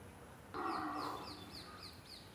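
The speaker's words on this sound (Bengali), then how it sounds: "পাখির ডাকও শোনা যাচ্ছে।" Birds calling outdoors beneath a tree in a quiet natural spot: a series of harsh, crow-like calls repeats steadily at a moderate distance over soft background ambience.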